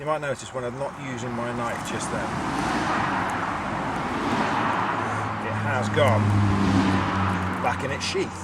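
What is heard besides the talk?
road traffic noise from passing cars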